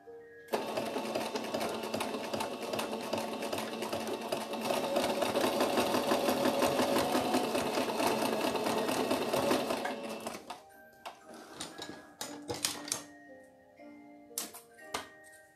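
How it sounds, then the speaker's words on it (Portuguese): A sewing machine stitches a seam on a handmade cloth baby doll, running steadily and loud for about ten seconds, then stopping into scattered light taps and clicks. "Daqui pra cá, vou passar uma costura."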